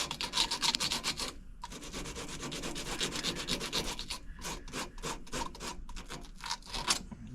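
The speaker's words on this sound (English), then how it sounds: "I just want to give a little sanding to this one" Hand sanding a part during a water heater repair, with steady back-and-forth rasping strokes, fairly close, in bursts with a brief pause, then quicker separate scrubs toward the end.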